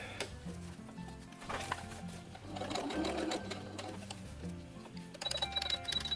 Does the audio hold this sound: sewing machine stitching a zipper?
yes